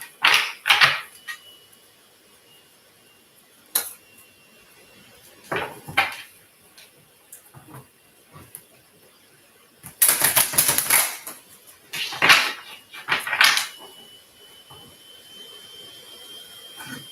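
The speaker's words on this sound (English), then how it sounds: "I think that was 2 shuffles" Tarot cards shuffled in bursts: a few crisp riffling flurries with soft taps and pauses between them, close and moderately loud, with no talking.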